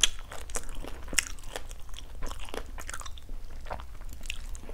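Close, crisp chewing of fried rice-flour cake with chives, with repeated crunchy bites and steady mastication in a quiet room, no talking.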